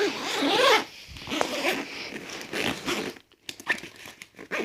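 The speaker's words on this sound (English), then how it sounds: "unzip it" A zipper on a fully packed BCD backpack for scuba gear is drawn open in a few close, rasping pulls with short pauses between them.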